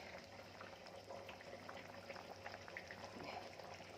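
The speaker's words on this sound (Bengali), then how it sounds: "হ্যাঁ ফুটে এসেছে, এবারে দেখে নি ফুটে এসেছে" A pot of water bubbles and simmers steadily at close range, with plantain cooking in it, a soft continuous rolling boil and no talking.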